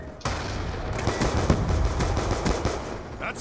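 Automatic gunfire from a gun in an online shooter video game, a dense continuous burst of rapid shots lasting about three seconds, loud and close.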